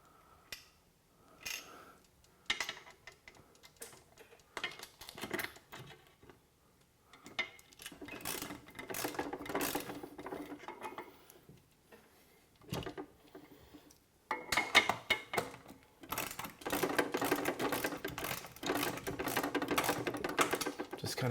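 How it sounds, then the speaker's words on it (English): A socket ratchet snugs the bolts on an air compressor mount in a garage, giving quiet, rapid clicking runs in short bursts, then longer, louder stretches of ratcheting. "Now here's where I wasn't sure if a ratchet would work"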